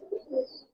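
A Pakistani pigeon in a loft gives one soft, brief coo, faint and close, with no talk over it.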